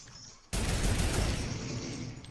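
Dense burst of video game gunfire erupts suddenly and keeps going, loud and close, as a duo of players comes under fire during a match.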